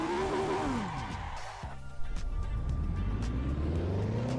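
Race car engine in Assetto Corsa revving high, then dropping sharply through a downshift before climbing again, a loud continuous whine with steady in-car drone and no talk.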